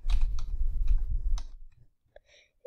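Code being typed on a computer keyboard in Roblox Studio, a quick run of close, crisp key clicks that taper into quiet, with a few faint tones at the end.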